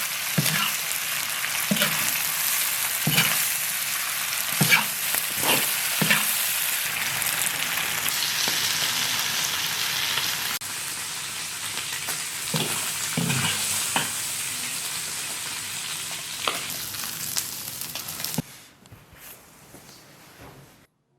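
Spicy donkey liver being stir-fried in a hot wok, with a loud, dense sizzle and repeated scraping and clanking of the spatula throughout, quieting sharply near the end.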